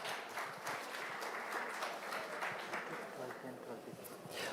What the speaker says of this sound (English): A round of applause for the 5 panelists here.